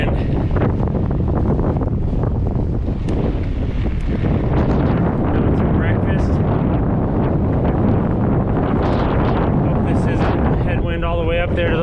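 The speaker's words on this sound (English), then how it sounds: "Got a little headwind." Wind roars steadily across the microphone during a bicycle ride from Badwater toward White Mountain Peak, a loud continuous buffeting headwind that fills the whole stretch with no speech.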